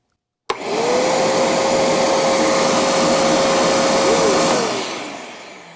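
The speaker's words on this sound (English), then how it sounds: "I have a shop vac now." Shop vac vacuum cleaner switched on with a sudden start, then a loud steady whining roar held for several seconds before it winds down, no talking.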